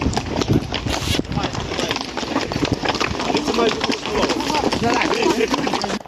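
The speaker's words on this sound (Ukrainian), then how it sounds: "Молодята і гості на конях вирушають до місцевого храму, аби обвінчатись" Horses' hooves clip-clop steadily on a hard road as a traditional Hutsul wedding procession on horseback moves together in Kosmach, Ukraine, with voices talking and chatter continuing underneath throughout.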